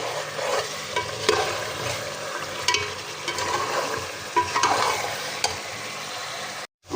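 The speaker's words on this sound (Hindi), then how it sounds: "ये मेरा मसाला फ्राई हो रहा चिकन वाला" Chicken masala fries with a steady sizzle in a pot while a spoon stirs and scrapes through it in irregular close strokes, ending in a brief silence, with no voices.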